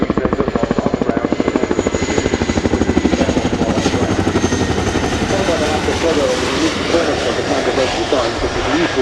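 An RAF Chinook HC.6A helicopter performs a two-wheel taxi at an air display, its twin rotors beating in a loud, steady rhythmic chop that softens slightly toward the end, with a commentator talking over it.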